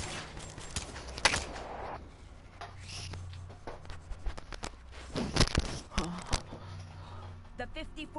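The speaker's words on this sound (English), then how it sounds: "Who is he shooting at?" Gunshots pop at intervals in the Man Of War game, several sharp cracks scattered among footsteps and game ambience, with someone talking over much of it.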